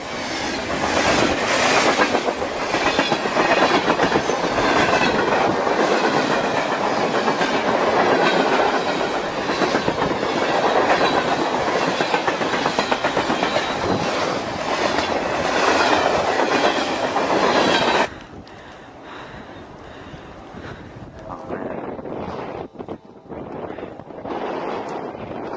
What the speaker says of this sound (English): This is a normal train which you see all the time, okay? You got your cargo containers and the oil containers for oil or whatever chemicals they have.